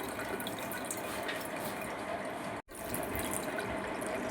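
Cold water poured steadily over freshly boiled and drained ada (rice flakes) for Kerala ada pradhaman, a continuous close splashing rush that breaks off briefly midway and then resumes.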